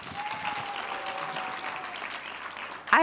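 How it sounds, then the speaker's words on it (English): A conference audience at a sector skills event breaks into a steady round of applause, dense clapping filling the room at moderate loudness, with a brief sharp sound at the very end. "guys, a Cathsseta round of applause."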